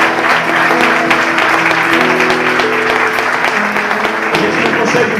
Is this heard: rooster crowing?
no